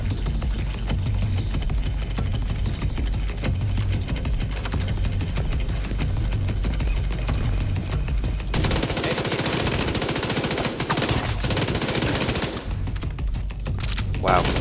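Sustained SMG fire in The Division 2 shooter game, a dense continuous burst of rapid shots with a brief, harsher stretch of heavier gunfire midway, loud throughout with no pauses.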